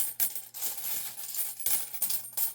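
Metal tarot coins from Mystic Metals jingle and clink together inside a bag, a bright, close shimmering rattle that rises and falls in several shaken bursts.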